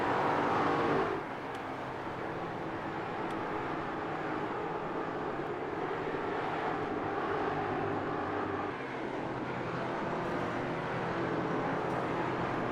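Simulated race cars in the iRacing game battle into turn 1, giving a continuous engine drone that shifts pitch as the cars brake and accelerate, steady and moderately loud with no talking.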